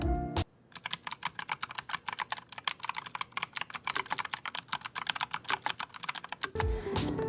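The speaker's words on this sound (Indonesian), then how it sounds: "Sekarang mungkin kita coba typing test dan soundnya ya." An ASUS ROG Strix Flare II mechanical keyboard with PBT double-shot keycaps being typed on, a fast, uneven run of crisp close key clacks that goes on for about six seconds, with no talking.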